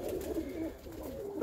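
A pigeon coos softly at close range, a low throaty rolling call that wavers over a short moment with no talk.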